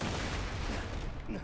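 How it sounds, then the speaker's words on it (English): Fireworks going off in Borderlands 2, a dense, continuous barrage of overlapping bangs and crackles that fills the whole moment at steady loudness with no pauses. "sounds like someone's setting off their remaining fireworks from the holidays"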